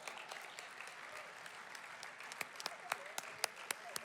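Audience at a business hall of fame event applauds, a soft steady wash of clapping with a few crisp, louder individual claps close by growing more prominent toward the end.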